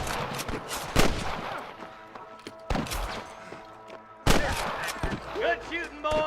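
Red Dead Redemption shootout with sharp, loud gunshots in irregular bursts, three heavy blasts standing out among scattered pops, with brief shouted voices between volleys.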